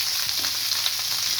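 Chopped onion frying in hot oil for a dosa chutney, a steady, close, bright sizzle that crackles without pause and stays even in loudness, with no voices.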